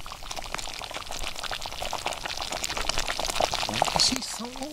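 Thick beef tendon curry bubbling and simmering in an iron pot at a campsite, with soft continuous popping and gurgling close by, a steady moderate level throughout.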